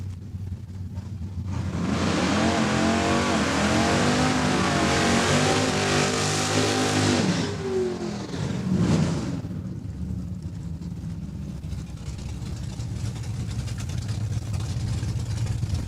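A junior dragster's small engine revs hard in lane one at a Saskatchewan drag strip, a loud buzzing whine with rising and falling pitch for several seconds before dropping back to a quieter idle with distant ambience.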